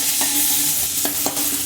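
Crushed garlic, green chili and coriander get stirred into softened tomatoes in a hot pan for tomato thecha, a loud close sizzle broken by a few sharp spoon scrapes and clacks.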